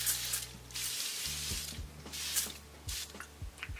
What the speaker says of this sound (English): now I'm gonna spray the Evian natural mineral water facial spray